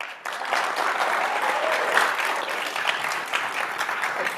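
An audience at the NAE National Meeting's Gilbreth Lecture applauds to welcome the lecturer to the stage, a steady, full round of clapping from a large crowd that holds evenly for several seconds.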